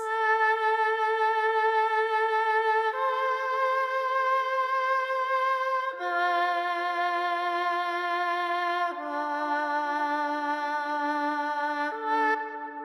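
A violin processed through a voice changer gives a sustained, buzzy string tone with a synthetic, voice-like timbre, playing long held notes that shift pitch every few seconds.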